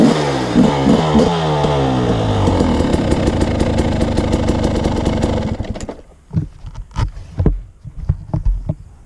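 A dirt bike engine fitted with a modified, rejetted Mikuni carburetor runs loud and close, settling into a steady idle for several seconds before a series of sharp throttle blips rev it up and let it fall back.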